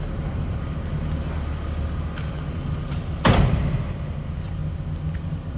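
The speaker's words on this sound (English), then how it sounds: "Long, heavy door closes nicely." A heavy car door of a 1978 Chevrolet Camaro shuts with a single solid thump over the low steady idle of its 305 V8 engine.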